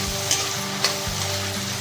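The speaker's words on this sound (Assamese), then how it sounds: "এইদৰে ভালকৈ ভাজিব লাগিব।" Chicken curry base frying in hot oil in a pan, giving a steady close sizzle with a couple of faint clicks and no talking.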